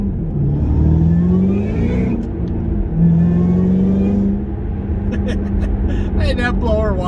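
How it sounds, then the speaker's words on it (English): Ford GT500 on the road with its supercharger blower whining over a steady engine drone that rises and falls in pitch, close and fairly loud, with people talking over it. "that blower whine is just so much fun"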